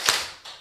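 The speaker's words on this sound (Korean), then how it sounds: "다시 한번 박수 한번 시작!" A church congregation claps together in unison, one sharp collective clap followed by a softer second one, close and loud in a reverberant hall with no talking.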